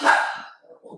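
A dog gives a single sharp bark up close, followed by a brief spoken word from a person.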